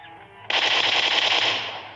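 Rapid sustained gunfire from the AWM sniper rifle in the video game PUBG, a loud dense burst starting abruptly after a quiet moment and continuing steadily to the end, with no talk.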